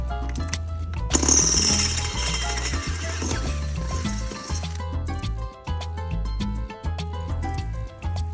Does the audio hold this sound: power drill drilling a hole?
yes